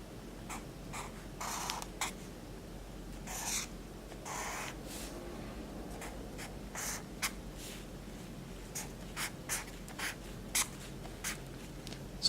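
A pen scratches out a simplified Chinese character by hand, close and quiet, in a series of short separate strokes with brief pauses between them and no talk.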